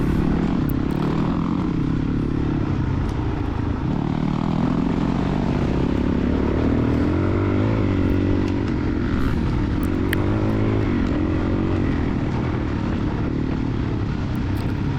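A 2003 Suzuki DRZ400 dirt bike roars through a cross-country race at Copper Creek. Its engine drones loud and close without a break, rising and falling a little as the rider works the throttle.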